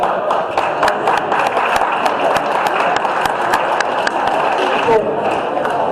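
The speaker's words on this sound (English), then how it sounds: "let's give Thomas a round of applause" Audience applause at a political group's general meeting, a dense steady wash of clapping over six seconds, fairly loud and close, with voices mixed in.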